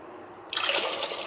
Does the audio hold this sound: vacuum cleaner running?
no